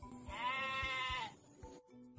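A single sheep bleats once in a loud, wavering cry, alone with no voices, followed by faint low ambient sounds.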